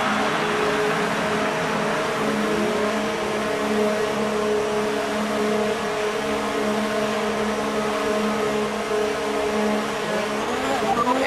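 F1 race cars roaring around the track in the video game F1 2024; a loud, continuous high engine whine with shifting pitch layers holds throughout with no break, no voices over it.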